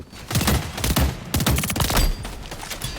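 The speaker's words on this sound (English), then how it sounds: "Once I unlock the 3-round burst rifle, it is so overpowered and you can just rack up kills from so far away with that thing." Rapid gunfire from a 3-round burst rifle in the video game Empulse crackles in quick clustered shots, loud and close, continuing for about three seconds with no voices over it.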